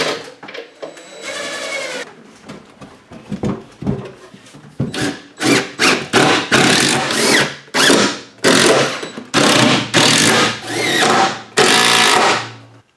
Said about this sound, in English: That's why I pre-drilled the studs, just to make sure it's easier to get these in.